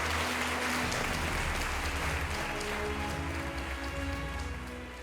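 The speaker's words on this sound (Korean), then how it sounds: "환단국에 박수를 한번 쳐주세요" An audience at a book concert lecture hall claps together in a dense, sustained round of applause that stays loud throughout before easing slightly at the end.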